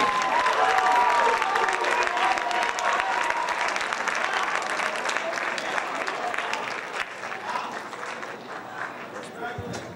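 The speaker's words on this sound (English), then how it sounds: "Let's give a big round of applause for all of our academic decathlon scholarship award recipients" Sustained applause from a crowd honoring academic decathlon scholarship award recipients, dense clapping that begins loud and gradually thins and fades toward the end.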